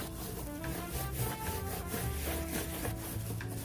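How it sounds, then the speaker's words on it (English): Rubbing a muddy aged-look finish onto a thrifted container by hand, a soft continuous scuffing with small irregular strokes and light knocks, close and quiet with no voices. "you're just going to rub it on the container. And you're going to get that aged look."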